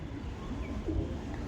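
Soft, low cooing of Andhra pigeons close by in a loft, a gentle burbling murmur over a quiet background.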